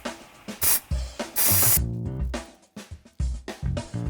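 An aerosol spray can nozzle fires in short bursts inside a Mercedes Sprinter van during carpeting, loud close hisses separated by clicks and mechanical rattles.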